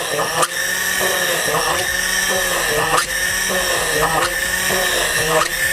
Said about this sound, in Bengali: এই যে সুইচ অন করলাম, দেখতে পাচ্ছেন ইজিলি কিন্তু কত সুন্দর ড্রিলটা হয়ে যাচ্ছে